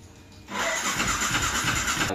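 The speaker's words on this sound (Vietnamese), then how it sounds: "Rồi mình nổ máy luôn nha." A motorbike engine starts after a half-second of quiet and settles into a steady, loud running rumble close by, with no one talking.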